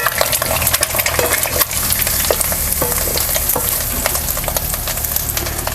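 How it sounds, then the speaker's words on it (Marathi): Eggs stir-fried in hot oil for egg biryani sizzle and crackle steadily, with a spatula scraping and clinking against the pan now and then. "थोडंसं आपल्याला अंडी आहे ना परतून घ्यायचं चांगलं असं"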